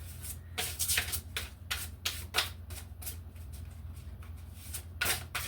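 Tarot cards are shuffled in quick riffling bursts, a crisp papery flutter repeating several times at close range.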